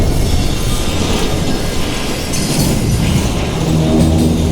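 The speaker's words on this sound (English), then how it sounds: "It was then that Jesse detached the express car from the rest of the damn train." A steam train's express car rolls and uncouples in the Western shooter Call of Juarez Gunslinger, a dense, steady roar of rail clatter and rumble throughout. Faint metallic clanks sit within the continuous loud noise.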